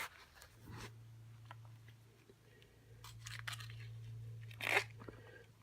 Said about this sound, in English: Cut out the top portion.